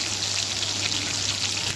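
Pieces of fish frying in a pan give off a steady, close, even sizzle and hiss throughout, with no talk over it.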